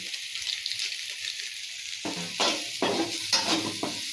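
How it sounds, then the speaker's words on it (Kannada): Chili masala and garam masala being stirred in a hot pan, with a steady sizzle at first and then several scraping stirs repeating near the end, close and moderately loud. "ಒಂದೂವರೆ ಸ್ಪೂನು ಖಾರ ಮಸಾಲೆ ಮಿಕ್ಸ್ ಮಾಡ್ಕೊತೀನಿ ಫ್ರೆಂಡ್ಸ್ ಗರಂ ಮಸಾಲೆ"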